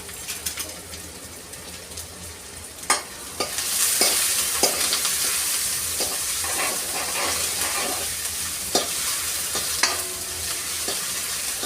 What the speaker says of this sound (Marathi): तर कांदा मी छान असा तेलावर परतून घेणार आहे.